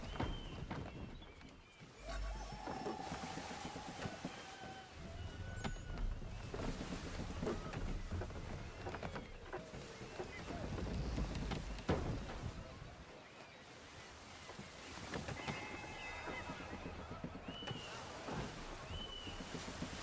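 Sailing ship moving through shallow water in Assassin's Creed III, with a steady wash of waves and rushing wind under creaking hull sounds that swell and ease over about twenty seconds.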